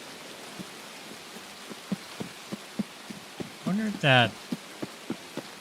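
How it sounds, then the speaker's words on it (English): Steady rain in the game Escape from Tarkov hisses across the whole clip as a dense wash, with regular soft thuds of footsteps on top and a brief burst of talk near the end. "Why is the rain so loud?"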